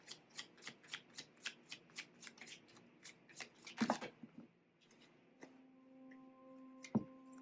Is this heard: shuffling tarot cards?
yes